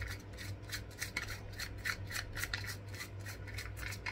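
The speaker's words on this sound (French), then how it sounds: "On dévisse, on dévisse, on dévisse." Rhythmic rasping clicks repeat steadily and close up as a plastic shower fitting is twisted loose by hand during a shower installation, with a low hum underneath and no talking.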